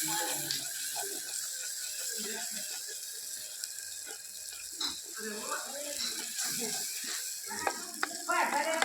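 Spice tempering sizzles and crackles steadily in hot oil on a village clay stove, with small pops and scraping clatter, close by, with occasional soft background voices.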